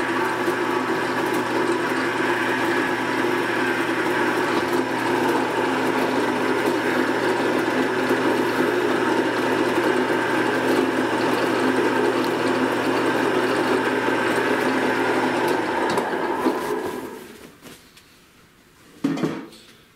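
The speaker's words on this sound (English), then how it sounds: "Grind it on the side." A power tool grinds against cotton-polyester fabric to distress clothing for LARP costume, a steady dense whir running loud and close for about sixteen seconds before cutting off, followed by a brief clatter.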